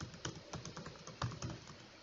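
Rapid typing on a computer keyboard while writing Java code, a steady patter of close, crisp key clicks with a couple of slightly heavier strikes and no voices.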